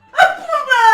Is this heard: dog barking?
yes